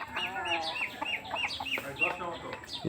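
Desi chickens cluck and chirp in short, busy bursts close by in a poultry yard, several hens calling over one another at moderate loudness.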